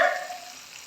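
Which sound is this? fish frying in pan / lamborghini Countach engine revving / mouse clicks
fish frying in pan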